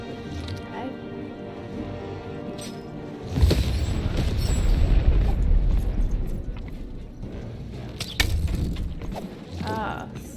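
Cannon fire in the video game Lost in Random: a heavy booming blast erupts partway through and rumbles on for a few seconds, followed by a second, smaller thud near the end, over a busy game soundscape.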